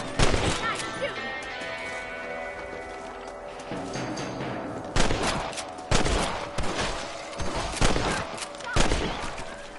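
Rifle shots ring out during a rabbit hunt on a ranch in Red Dead Redemption, a series of sharp, loud cracks coming in an uneven run over a game soundtrack, several close together near the end.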